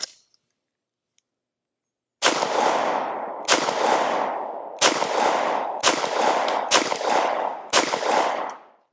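Six loud pistol gunshots from a handgun fitted with a Streamlight TLR-1 HP-X weapon light, each a sharp crack with a fading tail, fired about a second apart after a quiet opening, close and unaccompanied.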